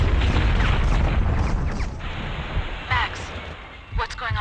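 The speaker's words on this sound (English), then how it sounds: "The building's blowing up." Building explosions in Max Payne 2, a loud rolling boom and rumbling debris roar that fades and rises again, with voices speaking over it.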